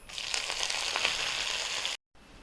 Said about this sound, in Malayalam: ഒരു ടീസ്പൂണ് കടുക് ഇടുന്നുണ്ട് അതിലേക്ക് ഒരു ടീസ്പൂൺ ഉഴുന്നിടുന്നുണ്ട് ഒരു പിടി കറിവേപ്പില ഒരു നാല് വറ്റൽമുളക് മുറിച്ചത് ഇട്ടുകൊടുക്കുക